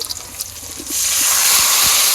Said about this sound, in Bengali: একটু পানি দিয়ে দিলাম